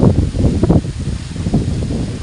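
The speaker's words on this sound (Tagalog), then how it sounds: "Although tapos na yung bagyo, pero sobrang lakas pa din ng hangin dito." Strong, gusty wind still blowing after a typhoon over rice fields, a loud, continuous rushing roar buffeting the microphone with surging peaks, heard alone and close.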